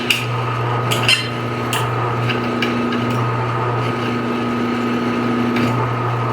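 A drill bores into a stuck steel chainring bolt on bicycle cranks, a steady high motor whine holding throughout, close and loud, with a few sharp knocks and scrapes of the bit catching.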